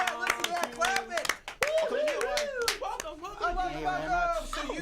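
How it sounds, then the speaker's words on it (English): Scattered hand claps ring out over lively overlapping voices and chatter, close and fairly loud, the clapping uneven and brief. "listen to that clapping"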